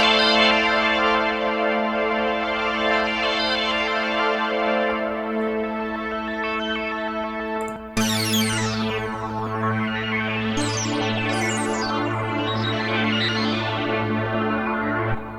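A sustained synthesizer pad holds steady chords, then shifts to a lower drone with swirling, shimmering modulated texture on top, played alone.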